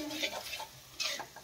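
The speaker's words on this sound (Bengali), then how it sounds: "এখানে মশলাটা কষাচ্ছি" Spice paste sautéed and stirred in a pan for a home-cooked devotional offering, with soft scraping strokes and a faint sizzle in two brief bursts, close and quiet.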